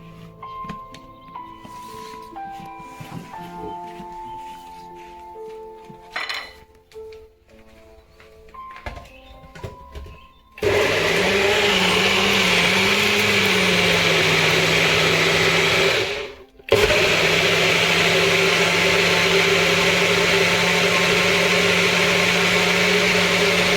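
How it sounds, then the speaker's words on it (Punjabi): A mixer grinder blends a fruit smoothie with a loud, steady whirring roar that starts abruptly, stops briefly and resumes, preceded by softer kitchen clatter and handling sounds. "ਮੈਂ ਹੁਣ ਨਾ ਮਿਕਸੀ ਵਿੱਚ ਪੀਸ ਕੇ ਤੁਹਾਨੂੰ ਦਿਖਾਉਣੀ ਆ"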